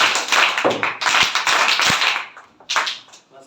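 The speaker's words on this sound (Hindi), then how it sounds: "स्काउट ताली बजा।" A group of scouts claps together in unison, sharp hand claps landing in tight bursts with brief pauses between them, fairly loud and close with no talking.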